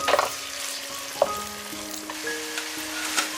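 Onion and red chili pieces stir-frying in a wok, a close steady sizzle with scraping stirs and occasional spatula clinks, no voices.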